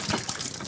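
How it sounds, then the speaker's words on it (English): Water poured or splashed onto a person during a gross-punishment game, a brief close gush and splash lasting under a second, with no voices over it. "You want some water, Joey?"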